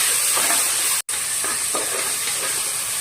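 Ginger garlic paste sautés in a pan for tomato rice with a steady, bright frying hiss. There is a momentary cutout early on and no talking.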